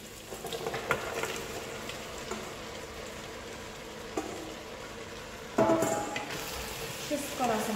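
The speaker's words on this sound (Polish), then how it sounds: "I lekko ją podsmażam" Ingredients frying in a Pressure King Pro pressure cooker while making a spicy Thai red soup, a low steady sizzle with occasional stirring scrapes and clinks and someone speaking softly over it.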